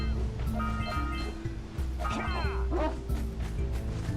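Several barks and yips from dogs in the video game Jak and Daxter: The Precursor Legacy ring out in short bursts over game music and effects, with a sliding whine in the middle.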